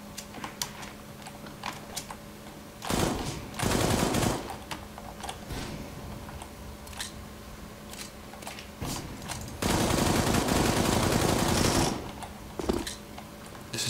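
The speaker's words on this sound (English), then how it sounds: "This is not a good gun." Gunfire in CS:GO, two loud bursts of rapid shots separated by quieter stretches of faint clicks and game ambience, with no talking.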